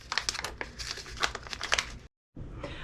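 Crinkling, rustling paper as hot mats are slid into paper envelopes, a busy stretch of scratchy handling that briefly goes silent, then resumes quietly.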